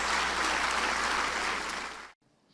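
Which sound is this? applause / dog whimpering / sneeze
applause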